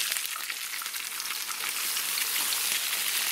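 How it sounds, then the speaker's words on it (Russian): Steady, bright sizzling of crucian carp frying over high heat in a hot pan, a continuous crackling hiss close up with no talking. "первую сторону жарим до образования золотистой корочки на сильном огне"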